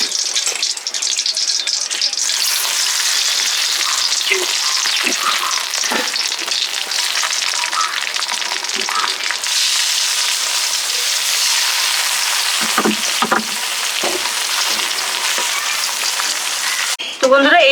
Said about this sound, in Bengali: এভাবে বাকি চিংড়িগুলো ভেজে নেব।